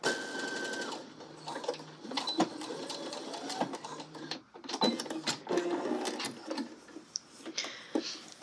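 A sewing machine stitches a seam in short bursts of rapid ticking and whirring, broken by small pauses and clicks, close and fairly quiet.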